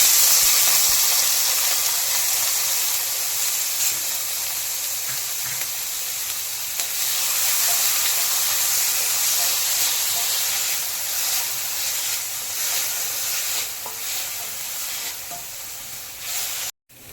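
Onions and green chillies sizzle steadily in hot oil in a pan for dal khichdi, a continuous close frying hiss with faint stirring, no voices, cutting off abruptly at the end.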